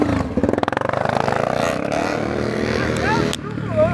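A motocross-style dirt bike on a trail idles and revs in bursts nearby, its engine burbling unevenly with some clatter. Voices call out over it.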